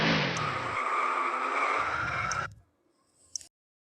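A car engine and tires rush loudly for about two and a half seconds, then drop off quickly into near silence, ending with a short bright squeak.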